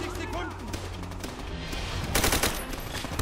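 Heavy gunfire from World War II soldiers in Call of Duty: World at War, with rapid machine-gun bursts and sharp shots close by, and battle voices shouting underneath.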